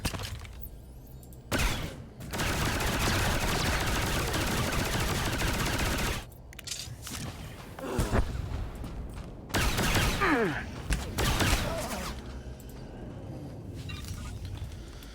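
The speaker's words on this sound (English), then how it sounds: "So I gotta shoot my way to get there." Heavy automatic gunfire rattles in long continuous bursts during a shooter video game set on the planet Balmorra, broken by a few short pauses and separate shots, loud and close throughout.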